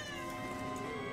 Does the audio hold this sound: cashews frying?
no